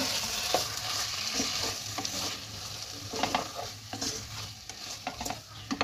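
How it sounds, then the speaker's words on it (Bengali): Coconut and spice paste being stirred into fried marinated chicken for chicken xacuti, a spoon scraping and turning through the pan over a soft continuous sizzle, with occasional louder knocks against the pot. "এবার আমি নারকেল আর মশলার পেস্টটা দিয়ে দেবো, দিয়ে ভালোভাবে নেড়ে নেব"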